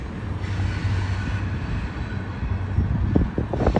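A heritage train rolls past a railroad crossing, loud and close, with a steady rumble of wheels on rail and rising squeals and clanks toward the end.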